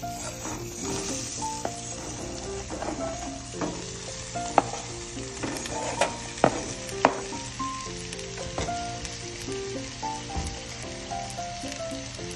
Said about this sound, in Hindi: आता तितून हांव टोमॅटो आनी ऑनियन कट केलो तो घालता।